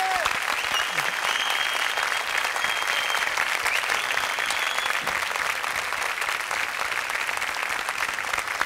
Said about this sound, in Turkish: Alkışlıyoruz İbrahim Yıldız'ı.